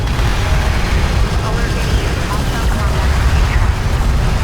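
Explosions and heavy fire hit an armored vehicle in the Homeworld: Deserts of Kharak video game, a dense, loud, continuous roar of blasts and rumble with voices speaking over it.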